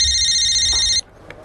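A telephone rings loudly with a steady, shrill electronic trill for about a second, then stops abruptly, leaving quiet room tone.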